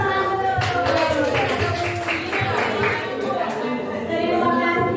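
Classroom applause breaking out in a group, steady overlapping claps with chatter and voices mixed throughout, close and continuous.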